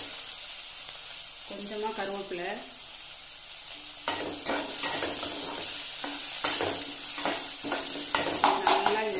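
Sliced onions and a slit green chili fry and get stirred in a pan for Chettinad egg curry, a steady close sizzle with scraping stir strokes, while someone talks briefly over it.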